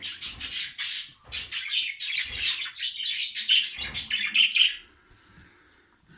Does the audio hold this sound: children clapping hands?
no